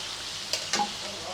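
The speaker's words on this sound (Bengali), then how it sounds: "এদিকে আমি পেঁয়াজ দিয়ে পেঁয়াজের ভাজনা উঠাচ্ছি" Onions frying in oil in a home kitchen, a soft continuous sizzle broken by two quick stirring scrapes, close and fairly quiet with no talk.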